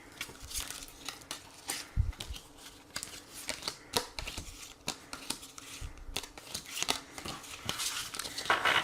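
Tarot cards being shuffled and drawn up close, with quick papery riffles, flicks and soft snaps scattered unevenly through the clip, no talking.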